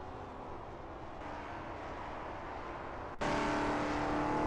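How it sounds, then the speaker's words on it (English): Lola T70 MkII Spyder race car engines drone steadily in a racing video game at Riverside, a sustained mid-level hum that jumps abruptly louder and brighter near the end as the throttle opens. "Rev your engines, folks. We're back to full throttle racing."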